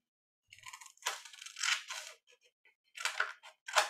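Paper trimmed with scissors for a junk journal envelope, heard as close, crisp crunching snips in several short bursts with brief pauses, with no talking over them.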